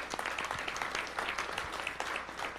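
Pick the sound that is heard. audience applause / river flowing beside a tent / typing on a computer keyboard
audience applause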